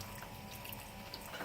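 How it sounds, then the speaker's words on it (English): Water is poured into the sand layer of a zeer clay pot refrigerator, a faint steady trickling and splashing, quiet and continuous over a short stretch. "pour the water."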